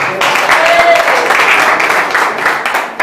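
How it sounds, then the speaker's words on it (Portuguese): A church congregation claps after singing happy birthday, a loud close burst of applause with a few voices calling out over it, lasting a few seconds. "Palmas para Jesus"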